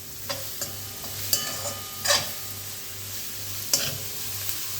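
Soybeans stirred in a pan over a lowered gas flame, with a low sizzle and several sharp scraping clicks of the spoon against the metal, close and moderately loud with no speech.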